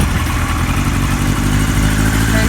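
A 1978 Kawasaki KZ1000A motorcycle engine idles fast and loud at close range, a steady dense mechanical rumble with no pauses.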